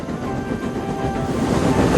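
A steam engine train rattling through a railway junction, a steady loud rumble of wheels and carriages with a faint clickety rhythm and no voices.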